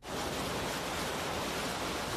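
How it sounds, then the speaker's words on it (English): Waves crash around a small boat in an anime episode as a steady, dense rushing roar of water that holds evenly for the whole moment, with no voices over it. "This thing's just crashing him through waves."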